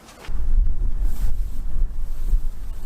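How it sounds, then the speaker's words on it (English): Strong wind blasts outdoors beside a storm drain, a loud, continuous low rumble buffeting the microphone with surging gusts and no pauses. "I thought the wind in there was bad, but it's pretty bad out here too"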